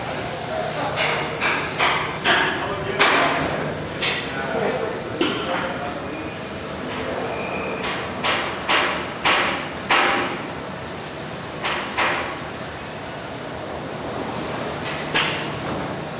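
An ON-12H2 machine homing after a light curtain reset gives off a series of sharp mechanical clacks and clunks in irregular bursts over a steady hum, fairly close.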